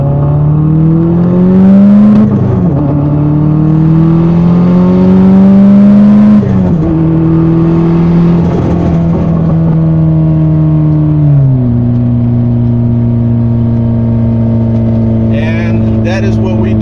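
An Audi A4 1.8T fitted with a big HX40 turbo accelerating hard through the gears, a loud close engine drone rising in pitch, dropping at each shift and climbing again, with a steadier high note near the end.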